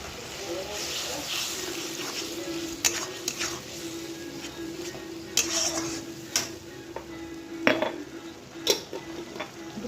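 Turmeric and chili powder fry in a pan for a katla fish kaliya, a soft background sizzle punctuated by sharp spoon clinks and scrapes against the metal.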